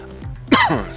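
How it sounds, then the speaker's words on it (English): A single harsh cough into a headset microphone beside the mouth, loud and close, preceded by a brief throaty sound. "it doesn't help to cough when you're coughing into a headset with a microphone right beside your mouth"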